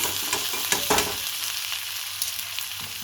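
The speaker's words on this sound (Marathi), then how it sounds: "नंतर त्याला पण भाजून घेते" Spiced potato bhaji with crushed green chilli, red chilli powder and coriander powder fries in a pan, giving a steady close sizzle with a few spatula stirs and clinks early on.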